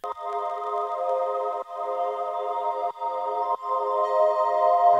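A lo-fi granular texture layered from many combined takes, sustained and dense with brief dips and re-swells, heard alone at moderate level.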